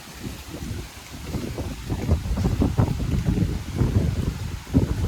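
Strong wind gusting across an open hometown spot, rough low buffeting that swells and drops in uneven gusts and rumbles against the microphone, with no voices heard.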